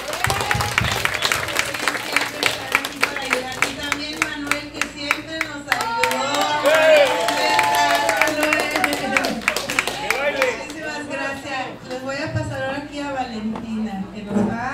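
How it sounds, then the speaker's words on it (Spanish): An audience applauds in thanks at a community gathering, crisp clapping and crowd noise running throughout beneath someone speaking and later voices singing. "le vamos a agradecer a ellas con un aplauso todos"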